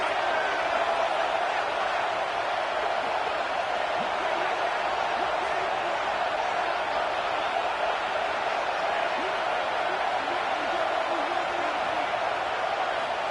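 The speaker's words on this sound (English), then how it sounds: "And here comes the noise. This crowd is trying to inspire this defense to make a big red zone stop." Stadium crowd at a South Carolina college football game, a steady loud roar of thousands of fans building noise during a red zone defensive stand, continuous and dense throughout with no breaks.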